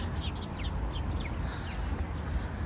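Birds chirp in short, high, repeated calls against steady low traffic and city hum during a walk through Riverside Park in New York City.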